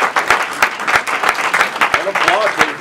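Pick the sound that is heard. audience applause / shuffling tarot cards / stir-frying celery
audience applause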